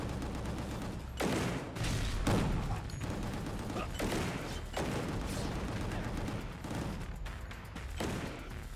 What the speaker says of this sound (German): Ah, der hat einen Granatwerfer. Ich dachte, was explodiert da die ganze Zeit?